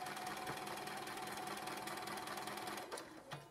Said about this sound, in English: And you just finish stitching,